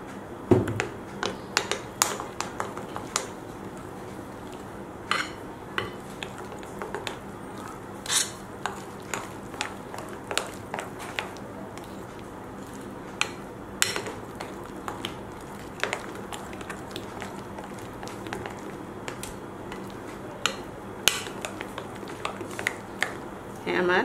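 Rice flour pitha dough being mixed and kneaded by hand, giving soft, irregular sticky taps and squelches, close and fairly quiet, repeating throughout.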